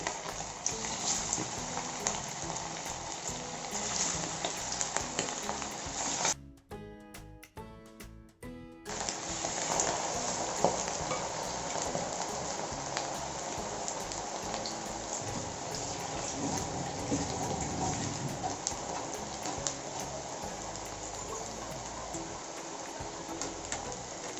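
Prawn vadai patties deep-fry in hot oil, a dense rain-like crackle and hiss that runs steadily, close by, with a brief dip partway through before the bubbling resumes at full strength.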